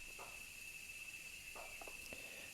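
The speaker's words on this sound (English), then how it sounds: "the cicadas are very fiercely proclaiming their will to mate, and there's nothing I can do about it." Cicadas chirping outdoors make a steady, faint high-pitched drone throughout, with a few soft clicks and rustles scattered over it.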